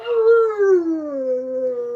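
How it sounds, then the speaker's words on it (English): A dog named Toby howls in a long, drawn-out wail that slowly falls in pitch, loud and close, alone with no talking over it. "Do you hear that pathetic howl?"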